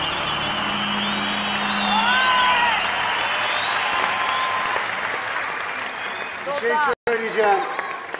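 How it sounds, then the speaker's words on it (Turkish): Studio audience applauds after a televised singing competition performance of the folk song Haydar Haydar at a New Year's special. A broad wash of clapping runs throughout, with a voice and some tonal sounds over it and a brief cutout near the end. "Büyük alkışlar"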